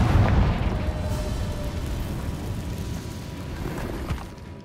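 A fiery Confringo spell explosion in the Hogwarts Legacy video game opens with a loud low boom, then fades into a rumbling, crackling decay with a faint later pop, no talking.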